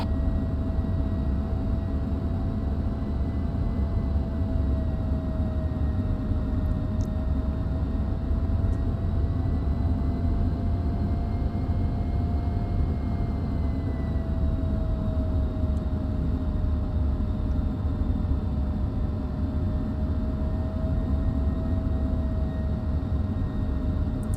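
A military jet idles and taxis toward runway 24 with a steady, continuous engine drone and a whine holding one pitch. It stays loud and even throughout, with no voices.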